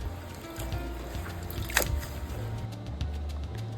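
Pumpkin leaves being rinsed by hand in water, giving soft sloshing, dripping and squishing sounds at close range with one sharper splash midway, against a low steady background hum.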